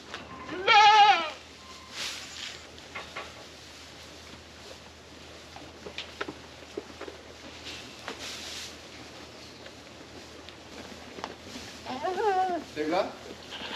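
Goats bleat a couple of times on a farm, one near at the start and another later, amid outdoor rustling and shuffling.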